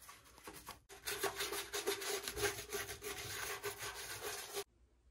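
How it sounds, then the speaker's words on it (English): Rapid back-and-forth scrubbing of a shower and tub with a toothbrush, close and steady for several seconds, with a couple of brief taps before it starts. "Use a toothbrush to get in the hard to reach places."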